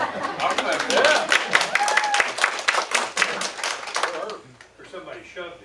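An audience at a community conversation on Amendment 2 in Huntington claps for the assessor, giving a burst of scattered applause that thins out over about four seconds, with voices chattering underneath.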